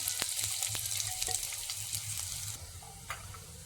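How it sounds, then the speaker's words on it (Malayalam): Chopped onions and dried red chillies frying in coconut oil with popped mustard seeds for a Kerala fish curry: a continuous close sizzle with crackles and stirring clatter, and no voices. "കടുകെല്ലാം പൊട്ടിക്കഴിയുമ്പോൾ അതിലേക്ക് ഉള്ളി അരിഞ്ഞതും വറ്റൽമുളകും ഇട്ട് കൊടുക്കാം."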